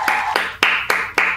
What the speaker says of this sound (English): You better clap right now.